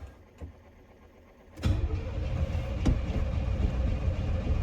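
A 1984 Chevrolet Monte Carlo SS V8, long left in a barn, cranks briefly and then catches, settling into a loud, steady, rumbling idle close by.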